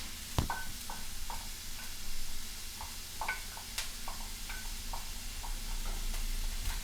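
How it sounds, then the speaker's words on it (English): Cut raw red onion hits a heating pan for peanut chutney, producing a faint, soft sizzle with scattered light clicks and stirring taps. "So as it is heating up, I am putting my cut raw onion."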